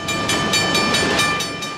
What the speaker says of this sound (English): It's that train, the one carrying the most galling of cargoes.